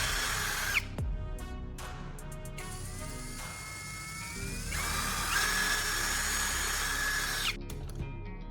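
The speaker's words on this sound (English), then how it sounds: "we're going to drill one more small hole to thread the wire through." A power drill whines steadily, its pitch rising and shifting as it bores through material, with brief pauses and restarts, close and fairly loud.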